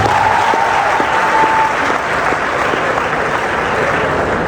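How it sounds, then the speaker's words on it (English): A crowd applauds at a Nurses Week debate competition, dense clapping that holds steady throughout, fairly loud and close. "So please let us give them a round of applause"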